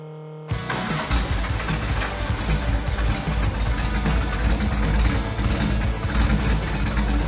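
A Kraftwerks Porsche 917 replica race car engine, rocking from unbalanced sides, fires up abruptly and keeps running, a loud, rough, uneven roar close by that holds steady to the end.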